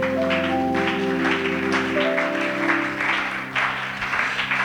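A church congregation claps and cheers to acclaim the Lord, a dense, steady wash of applause under sustained organ or keyboard chords for the whole stretch.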